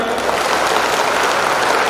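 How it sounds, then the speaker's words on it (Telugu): An audience at a school parents' orientation programme claps hands together in a dense, sustained burst of applause that fills the room, with no speech over it. "ఇప్పుడు ఒకసారి చప్పట్లు కొట్టండి"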